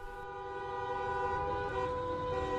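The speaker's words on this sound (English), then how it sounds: "honking cars on the streets of Paris this week, driving instructors protesting against the Macron law" Car horns blare in a sustained, overlapping chorus on Paris streets as driving instructors protest, a loud, steady honking wall of tones that continues without a break.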